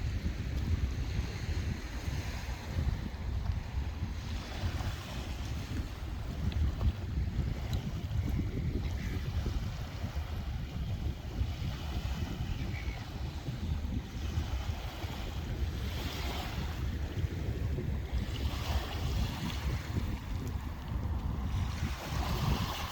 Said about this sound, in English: Lovely lapping waves.